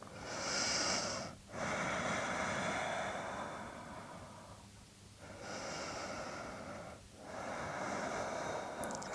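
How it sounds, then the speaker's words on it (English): Slow deep breathing during a yoga stretch, close and audible, with long drawn inhales and exhales, a pause between cycles, no talk. "Let's take a couple breaths here."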